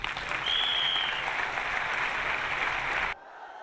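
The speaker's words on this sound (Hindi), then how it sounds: "हमारी वाइफ के लिए जोरदार तालियां हो" A crowd at a promotion celebration event claps heartily for the speaker's wife, a thick, sustained round of applause with a brief high tone over it that cuts off abruptly near the end.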